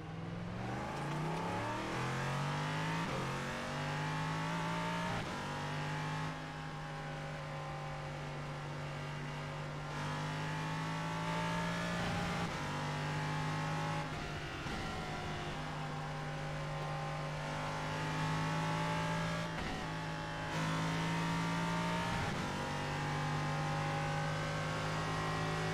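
A race car in the iRacing sim accelerates through its gears, the engine note climbing steadily with repeated upshifts and revving, loud and continuous with no talking.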